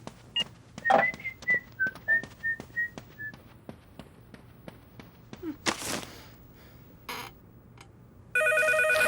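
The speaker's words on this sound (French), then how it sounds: "Téléphone." A telephone's electronic ring kicks in near the end, loud and steady, after a stretch of whistling and a few thumps and knocks.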